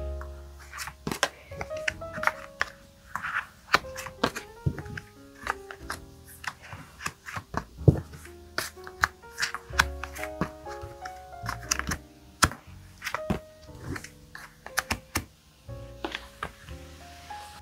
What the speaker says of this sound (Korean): 한 장씩 뽑겠습니다.